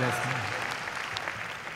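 Audience at a Hindi poetry recital in a hall breaks into clapping, a short burst of applause that tapers off under a speaking voice.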